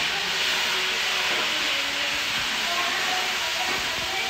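Onions frying in hot ghee for a tadka, cooking for an aloo moongrey dish. A steady, close sizzle and hiss runs without a break, with no voices.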